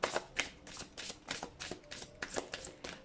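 Tarot cards are shuffled and drawn by hand in a quiet room, a soft rhythmic riffle of close, light card flicks repeating about a dozen times with no talk.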